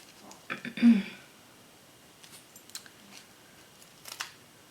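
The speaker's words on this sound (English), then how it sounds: "So just a few snips." Scissors make a few quick snips through window screen, with short crisp cuts spaced irregularly and a louder rustle at the start, close to the microphone.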